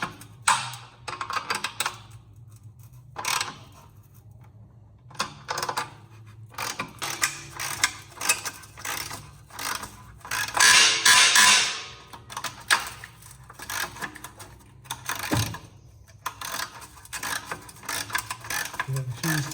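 A hand wrench works a stubborn exhaust bolt on a BMW M140i during an exhaust upgrade, making a repeated ratcheting clicks and metallic clinks in short bursts, close and fairly loud, with one louder rattling scrape midway.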